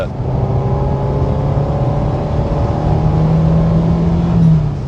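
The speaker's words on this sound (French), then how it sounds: "le bruit de l'échappement est vraiment sympathique" A PGO Hemera car exhaust burbles and drones close by, its pitch rising slightly as the engine revs harder toward the end.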